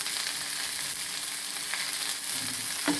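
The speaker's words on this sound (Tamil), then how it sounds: "போட்டு வதக்கி விட்டுக்கணும்." Cumin, fennel and broken roasted gram sizzle in hot oil in a pan for green pea sundal, a steady close frying hiss throughout with faint stirring scrapes.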